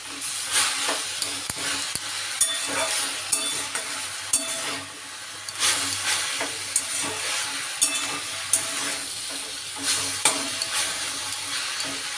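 Dry shushni greens, drumstick leaves, fry in a pan with no meat, a steady close sizzle broken by repeated scrapes and clacks of stirring throughout, with no voices.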